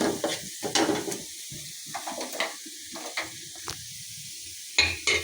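Onions browned to red frying in hot oil, a crackling sizzle that swells and fades in irregular bursts with stirring, close and fairly loud; no talking.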